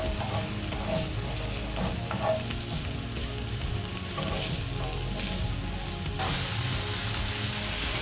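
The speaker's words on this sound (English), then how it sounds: "So you'll cook your onions until soft." Onions frying in a cast iron pan, a continuous close sizzle with occasional stirring scrapes and clatter, steady and moderately quiet with no voices.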